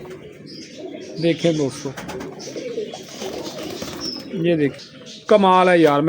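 Golden Kabootar pigeons coo in short, soft bursts close by, one louder rolling coo rising near the end, while someone talks excitedly over them.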